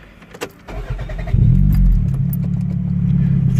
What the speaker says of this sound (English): It's exhaust.